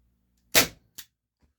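A Lancer Defense Scorpion air gun fires one sharp, loud, close shot, followed by a softer mechanical click and a faint tap in otherwise quiet surroundings.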